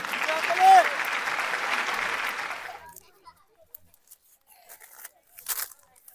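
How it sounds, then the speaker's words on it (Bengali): An audience bursts into applause for a prize winner at an outdoor village fun challenge with a greased banana-tree pole, the clapping dense and steady for about three seconds before dying into scattered faint sounds and low voices. "ভাইয়ের জন্য একটা হাততালি হয়ে যাক"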